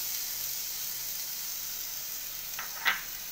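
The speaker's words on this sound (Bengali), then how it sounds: "আমি গাজরটা ভালো করে ভেজে নিচ্ছি যতক্ষণ না গাজরের জলটা শুকিয়ে যাচ্ছে।" Grated carrot and capsicum fry in a pan with a steady, close sizzle and hiss that runs throughout, plus a brief louder crackle near the end.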